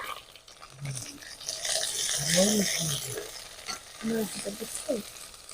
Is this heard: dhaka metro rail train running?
no